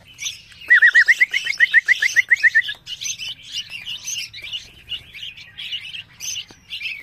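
Red-whiskered bulbul chicks at a bird farm chirp close by in rapid, repeated bursts, with quick rising notes early on and then busier overlapping twitters continuing throughout.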